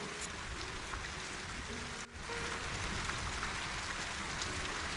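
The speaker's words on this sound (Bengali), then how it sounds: "এই বলে সুমিত্রার বাবা বৃষ্টির মধ্যে বেরিয়ে পড়ল কাঠ কাটতে।" Steady heavy rain pours down at night in an animated ghost story, a dense even hiss of drops on surfaces with a short dip midway, moderately quiet and with no speech.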